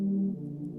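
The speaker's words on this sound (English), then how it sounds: "This pad sound sounds like this." A sustained, warm synth chord hums steadily, shifting to another chord partway through with no break in the sound.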